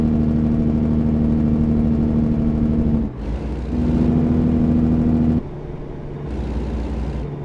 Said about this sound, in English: Jake brake sounds really nice.